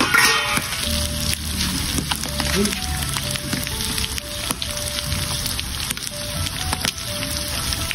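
Beef tendon cooks in a covered pan, giving a steady, dense sizzle with frequent sharp pops and crackles that continue throughout.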